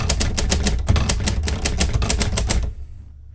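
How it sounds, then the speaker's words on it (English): A Hermes 3000 manual typewriter types a quick, close run of sharp clacking keystrokes at an even rhythm, then stops, leaving quiet. "When you type a letter, so let's say the H, the corresponding arm for that letter lifts up"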